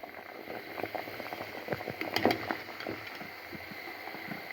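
Raw banana simmering in a pot of water for vada, a faint steady bubbling with soft irregular pops and a brief clink midway, close and quiet.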